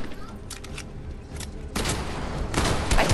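Gunfire in the video game Fortnite: rapid bursts of rattling shots and sharp cracks that grow denser and louder toward the end, with a player talking underneath.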